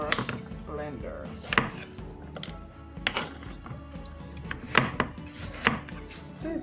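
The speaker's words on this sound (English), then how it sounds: "So we're just cutting them up in big chunks and then slicing them" Knife chopping through sweet potatoes on a cutting board, sharp irregular thuds every half second or so, close and fairly quiet.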